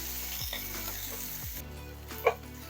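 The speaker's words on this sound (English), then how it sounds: "And then we're going to get our chicken cutlets going once our sauce is already on its way." Chicken cutlets sizzle steadily in a pan beside simmering pasta sauce, a continuous close frying hiss with a brief clink near the end and no talking.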